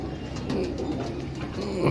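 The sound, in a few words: pigeon cooing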